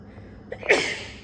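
A single sharp sneeze bursts out with a quick intake before it, close and loud against a quiet room.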